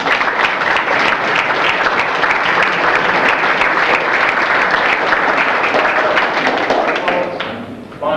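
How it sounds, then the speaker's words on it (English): Sustained applause from an audience at a September 11th remembrance event, loud and dense for about seven seconds before tapering off at the end. "Have a round of applause for Elisa Kohanski."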